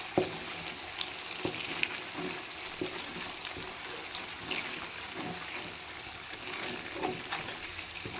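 Ginger paste frying in oil in a pan, a soft continuous crackling sizzle with frequent light stirring scrapes, close and fairly quiet, with no one talking.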